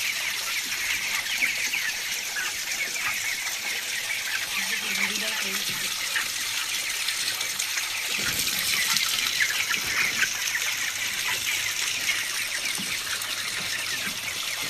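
Chickens on a small backyard poultry farm cluck faintly in the background under a steady rushing noise, with a few brief soft calls and a person talking at times.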